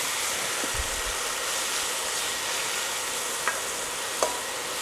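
Shaved Brussels sprouts fry in a pan with soy-style liquid aminos, giving a steady, close hiss of sizzling with a few faint clicks and taps from stirring.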